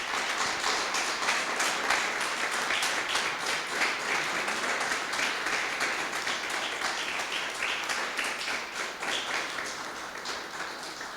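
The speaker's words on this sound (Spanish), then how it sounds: "Denle un aplauso al Señor" A church congregation applauds steadily for about eleven seconds, a dense wash of clapping that holds level and fades slightly toward the end.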